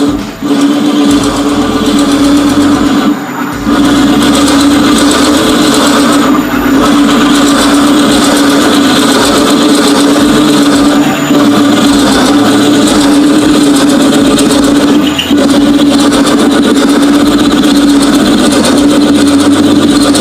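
A wood lathe turns a burl blank, its motor humming in a loud, steady drone with a strong constant tone, running continuously and close by with only brief dips.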